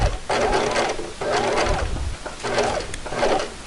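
A sewing machine stitches a hammock tree strap in four bursts of steady, rapid whirring at close range, each separated by a short pause, with no talking.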